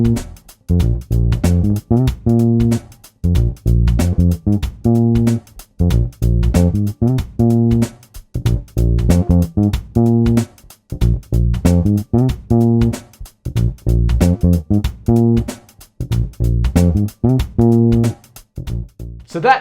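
A song plays, its melodic bass line pulsing steadily in repeating phrases under sparse percussion, loud and continuous with no talking.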